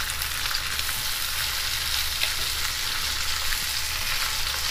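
Tandoori chicken frying in oil in a home kitchen, a steady, dense sizzle that stays loud and even throughout with no voices.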